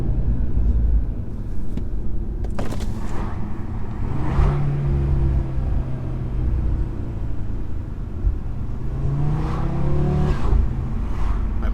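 Audi RS3 engine revving hard under acceleration from low revs, a steady loud rumbling drone from inside the car with rising pitch sweeps and a couple of sharp crackles, no talking.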